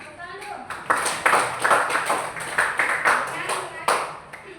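Short burst of applause from a small group, a few seconds of uneven claps with a speaking voice over them.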